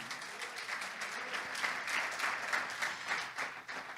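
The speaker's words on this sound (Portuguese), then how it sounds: "Dê um aplauso à moeda de Jesus" A church congregation applauds during a sermon, a continuous spread of clapping heard at moderate distance and fairly quiet, swelling slightly midway.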